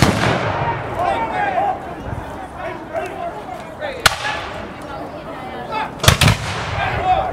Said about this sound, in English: That was a nice volley. And another nice volley back at them.